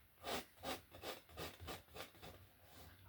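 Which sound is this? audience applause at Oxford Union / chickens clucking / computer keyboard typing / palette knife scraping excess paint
palette knife scraping excess paint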